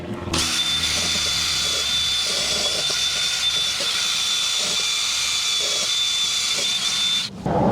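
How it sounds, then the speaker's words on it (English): A wire wheel spins against the rust-crusted brake hub of a 2016 Lexus IS200t, producing a steady, loud, high-pitched grinding hiss that runs unbroken for about seven seconds before cutting off abruptly near the end. "I'm just going to take this little wire wheel and brush this hub just to clean it up"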